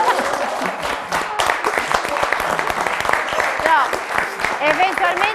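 Applause from a quiz show audience rises among lively talk and overlapping voices, clapping steady but partly masked by speech throughout.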